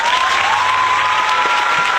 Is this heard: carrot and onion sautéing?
no